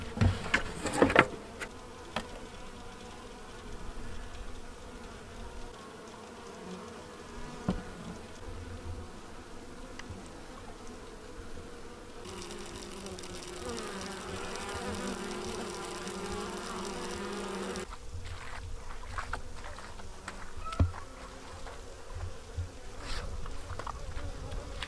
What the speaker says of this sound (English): We got to stop by the bees